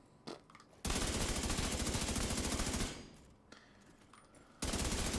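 Automatic weapon fire in The Division 2 comes in two long, loud, rapid bursts with a quieter stretch between them, close and with no voices.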